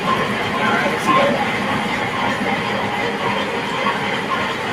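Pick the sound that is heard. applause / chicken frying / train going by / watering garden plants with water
train going by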